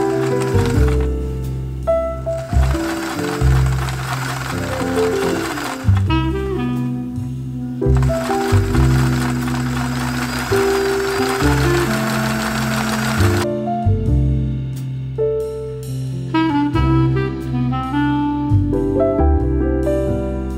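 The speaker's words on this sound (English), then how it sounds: "I'm just going to use my presser foot to differentiate where each line goes" Home sewing machine stitching shirring rows on fabric for a top: repeated bursts of fast mechanical whirring and rattling, each run several seconds long and separated by brief pauses, loud and close.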